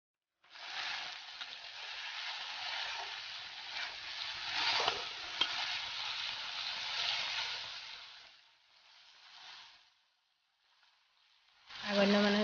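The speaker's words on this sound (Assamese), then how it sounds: "আৰু এইপিনে মই বনাব লৈছোঁ ভেচেলি মাছ ভাজি।" Loud, dense sizzling of small local fish frying in hot oil that gradually dies down, followed by a brief burst of sound at the very end.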